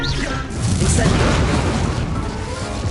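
An Incendio fire spell blasts in Hogwarts Legacy, a loud rushing boom that swells and roars for a few seconds, with a voice briefly audible under it.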